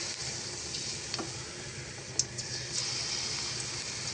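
Small spoonfuls of pitha batter sizzle in hot oil in a pan, a steady soft crackling fry with a few faint clinks, fairly quiet and close, no voices.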